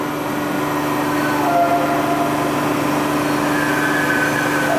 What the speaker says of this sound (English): The winding engine would be operated by a driver. So he's starting his wind now.